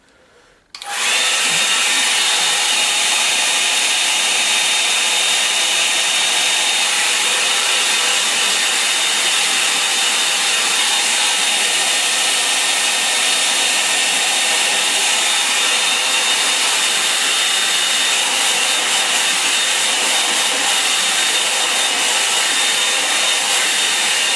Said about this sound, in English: I'll use the hairdryer, so take your headphones off.